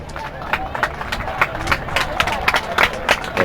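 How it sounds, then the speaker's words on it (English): Crowd at a sports game applauding and cheering, a steady wash of claps and voices with repeated sharp bursts, fairly close and loud throughout. "The crowd applauding that effort"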